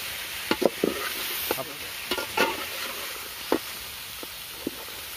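Green papaya curry with grated coconut being stirred in a pan in a village kitchen: a soft sizzle under repeated scraping, knocking spoon strokes, irregular and close, no talk.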